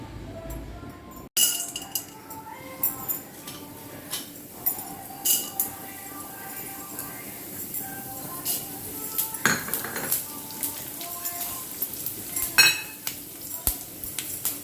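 A metal spatula clinks and scrapes against a pan while urad dal, chana dal, cumin, fenugreek, mustard seeds, dried chillies, sesame and coriander seeds roast. The soft kitchen clatter comes in irregular taps and stirs, with a brief sharp knock early on.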